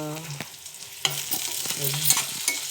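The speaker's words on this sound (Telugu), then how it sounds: "వంకాయ టమాటా పచ్చడి వేగుతుంది, చూస్తున్నారా?" Eggplant and tomato chutney frying in a pan, with a low sizzle and repeated utensil scrapes and clicks from stirring, heard close with no talking.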